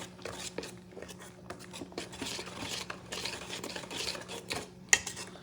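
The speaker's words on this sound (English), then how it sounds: "And I'm going to mix this baby with a spoon or one of these mixer." A spoon stirs coconut milk and corn in a bowl, making quiet repeated scraping and swishing strokes close by, ending with a brief metallic clink.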